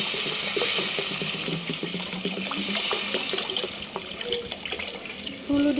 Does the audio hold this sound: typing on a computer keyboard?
no